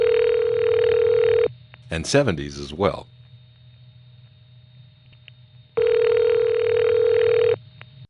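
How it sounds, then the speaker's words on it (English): Telephone ringing machine ring current from a number 5 crossbar exchange installed in the late 1960s, two loud, long buzzing ring bursts with someone talking briefly in the gap between them. "this is the kind of ringing machine they were installing in the late 60s"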